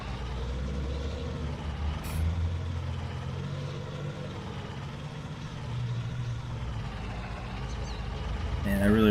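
A truck drives along in Farming Simulator 19, its engine a steady low rumble that swells slightly near the end, with a brief air-brake hiss in between.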